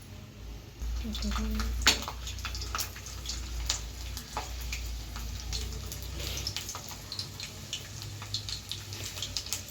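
Garlic cloves drop into heated oil and fry with a steady, close sputtering hiss and scattered sharp crackles that hold throughout, over a low background rumble.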